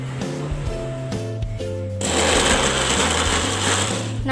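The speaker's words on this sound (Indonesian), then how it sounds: "Lalu setelah itu di blender ya." A motor starts with a low hum, then a blender roars into a loud, steady grinding whir while blending spices with salt.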